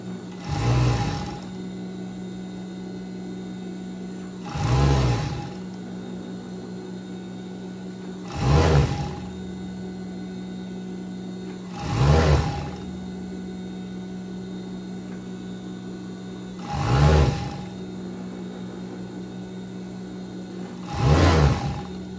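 An overlock sewing machine hems a printed pet shirt in six short, regular bursts of whirring stitching, each a second or so long and a few seconds apart, with a low machine hum between them and no voices.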